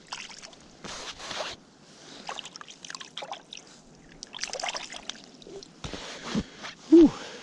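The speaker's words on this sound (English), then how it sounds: "Rinse my hand off." A hand is rinsed in the water of an ice fishing hole on a lake, with quiet intermittent splashing and trickling bursts near the mic.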